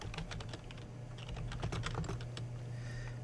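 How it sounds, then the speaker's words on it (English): Rapid computer keyboard typing as a search term is entered: a quick run of crisp, uneven key clicks, close and clear over a steady low hum. "So I'm going to use that to go ahead and type in my search term."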